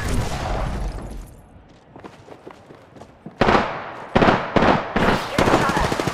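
Bursts of automatic rifle fire ring out in the battle royale shooter Apex Legends, sharp cracks in rapid volleys growing louder and denser, close and loud, with brief spoken callouts between shots.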